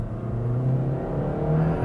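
A Toyota Corolla with a CVT accelerating, giving a steady, loud engine drone and hum from inside the car that holds at a nearly constant pitch, with no talking.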